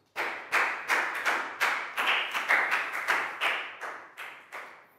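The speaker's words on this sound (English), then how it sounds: "High five and a big round of applause for that" A classroom of Year 4 pupils applauds a student: a burst of clapping by many hands, with irregular swells and surges, loud and close, lasting the whole stretch with no talk over it.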